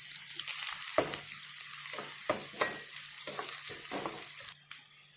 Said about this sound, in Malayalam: കടുക് താളിക്കാൻ എണ്ണ ഒഴിച്ചിട്ടുണ്ട്. ആവശ്യത്തിന് കടുക്, എണ്ണ ചൂടായി.